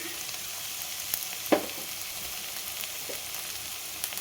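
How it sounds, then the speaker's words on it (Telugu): Okra sizzles steadily in a pan with a coconut chili spice mix, a soft, even fry with a brief clink of stirring partway through and no talking. "కొబ్బరి మరి కాస్త వేసుకుందాం. బాగా కలపాలి."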